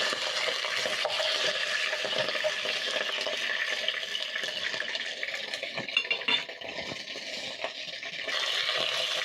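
Beef ossobuco sears in a hot pan with a steady, dense sizzle and crackle that holds loud and close, dipping briefly before swelling again.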